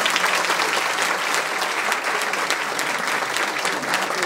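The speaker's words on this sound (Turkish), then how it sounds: "Hani alkış?" Steady, dense applause from an awards show audience, many hands clapping continuously at an even loudness throughout with no pauses.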